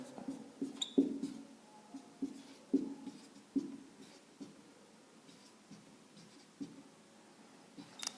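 A pen scratches out numbers by hand on paper in short strokes with brief pauses, close and quiet with no talk.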